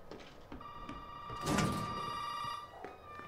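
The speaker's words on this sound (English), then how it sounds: "Guess I'll answer the phone." Phone ringing in the horror game Resident Evil 7, with a steady electronic ring tone that repeats over a low, rumbling game ambience and swells briefly midway through.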